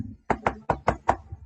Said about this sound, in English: Tran knocks on the door.